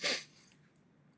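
A single sharp sneeze at the start, loud and close, followed by quiet.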